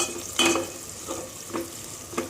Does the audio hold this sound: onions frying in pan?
yes